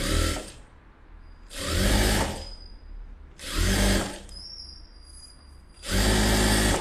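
A sewing machine stitches a folded-under hem on a garment, running in four short, loud bursts of whirring with pauses of quieter room hum between them.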